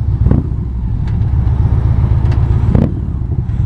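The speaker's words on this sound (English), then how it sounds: "All right, I'm stuck in traffic." A car idles and creeps through city traffic in Cincinnati, its engine a loud, close, low rumble with a few brief swells and no voices.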